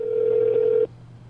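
A steady telephone dial tone hums for under a second, then cuts off abruptly, leaving a faint low hum.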